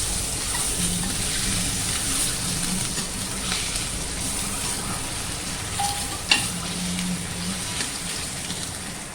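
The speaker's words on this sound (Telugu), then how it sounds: "నేను ఆయిల్ వేసుకొని కోడిగుడ్లు ఘాట్లు పెట్టుకొని ఫ్రై చేసుకుంటున్నాను." Eggs frying in oil seasoned with salt, chilli and turmeric for an egg pulusu curry, a continuous close crackling sizzle with a brief clink partway, no talking.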